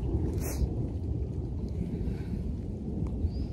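Steady rain falls outside with a low thunderous rumble underneath, a dense continuous wash heard close and fairly loud throughout, with no voices.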